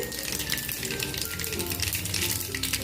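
Cumin seeds dropped into hot oil with already-popping mustard seeds in a kadhai, a steady dense crackling sizzle that carries on without pause.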